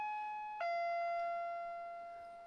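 A doorbell rings once with a two-tone electronic chime, the second note ringing out and slowly fading in a quiet room.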